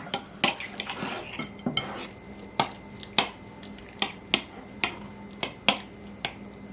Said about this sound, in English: So you want to put it in and then just mix it all up